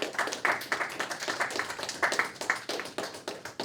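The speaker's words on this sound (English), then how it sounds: "join me in a round of applause for the presenters." An audience applauds presenters at a student summit workshop, a moderate burst of many hands clapping close by, steady and unbroken throughout.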